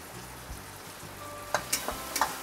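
Cabbage with tomato and garam masala and coriander-cumin powder sizzles in a pan, a soft constant frying hiss broken by several sharp scrapes and clinks of a spoon stirring, and no talk.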